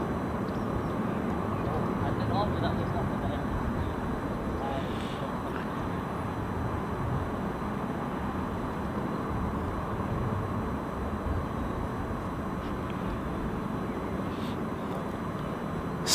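A small jet aircraft at London City Airport produces a steady broadband roar of engine noise for the whole stretch, even and sustained, distant rather than close, with no talking over it.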